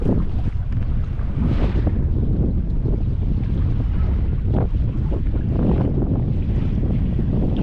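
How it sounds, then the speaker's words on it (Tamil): Strong wind buffets and roars across the microphone while a houseboat moves over the water in Alappuzha, a continuous gusty rush with no voices. "காற்று சூப்பராக அடிச்சிட்டு இருக்கு சில்லு சில்லு சில்லுன்னு"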